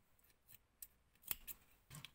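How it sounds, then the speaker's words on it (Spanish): Scissors snip through yarn in a few quiet, crisp clicks, one sharper cut standing out among softer handling sounds, close and faint. "aquí unos 10 centímetros y cortamos nuestro hilo"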